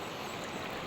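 Shallow river current flowing steadily around waders, a constant broadband wash of moving water close by with no speech, brief and even throughout.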